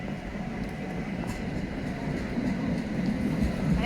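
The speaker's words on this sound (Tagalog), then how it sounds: "Ayan ang train." A train pulls into a station in the Czech Republic, a steady low rumble of wheels and carriages that swells slightly louder as it nears. No one speaks.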